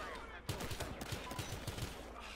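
Gunfire in the police shooter Battlefield Hardline comes as a fast string of about eight rapid shots, close and evenly spaced, over a noisy background.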